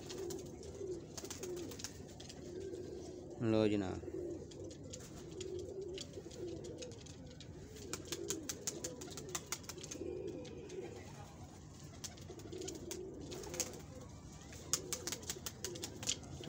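Pigeons cooing in Lahore, soft low throaty coos rolling on and off over a steady ambient background, with someone talking briefly and some fluttery clicks.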